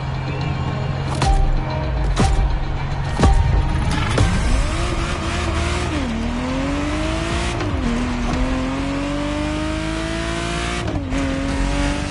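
A Ferrari Testarossa engine revs hard while driving, its loud, raspy note climbing in pitch and dropping through several gear changes, close and sustained for the whole stretch.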